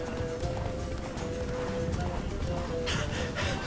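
Roach, the horse in The Witcher 3, gallops in a quick steady clip-clop of hooves under game music and ambience, with a faint whinny.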